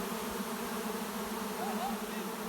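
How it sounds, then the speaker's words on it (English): Bees buzzing during a late-season honey harvest in August, forming a dense, steady drone that fills the whole stretch at a moderate distance. "I have bees."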